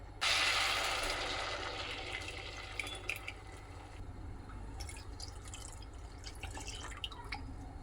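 Water poured into a cooking pan holding oil for rice-flour modak dough gives a splashing gush at first that gradually eases into softer trickling and drips, fairly quiet throughout.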